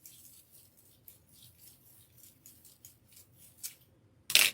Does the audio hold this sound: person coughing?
no